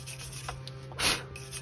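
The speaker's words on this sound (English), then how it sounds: "So I want to clean the mating surface on this side too" A Honda Fit's rear wheel hub mating surface being scrubbed clean: one short, quiet rubbing burst against a low steady background hum, with no talking.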